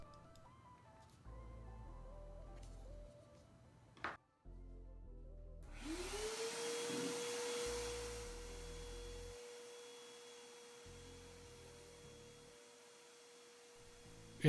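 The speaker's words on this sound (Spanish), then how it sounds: "limpiarlo muy fácilmente con la ayuda de una aspiradora, una brocha que tengas a mano" A vacuum cleaner cleaning dust from a graphics card heatsink starts up with a rising whine that settles into a steady, loud motor drone, running continuously over a low background hum.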